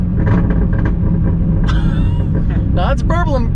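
Corvette ZR1 with a new flame-shooting aftermarket exhaust, built to about 1,000 horsepower, burbling with a steady low rumble that runs throughout, while people talk over it close by.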